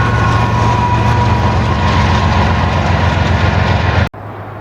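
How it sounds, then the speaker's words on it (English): A train passes close beside the Columbia River, a loud, continuous rumbling roar with steady rolling wheel noise that cuts off abruptly near the end, leaving quieter wind-like background. "I hope you can hear me over this train."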